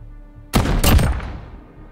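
A single burst of gunfire in Call of Duty: Modern Warfare (2019) online gunfight, a close, loud volley of a second or so that cuts in sharply and decays with a reverberant tail, no talk over it.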